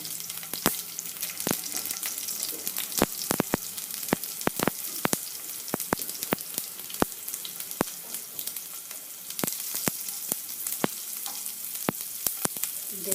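Dried chili, garlic and curry leaves fry in hot oil for a tempering, giving a steady close sizzle broken by frequent sharp crackles and pops throughout, with no speech.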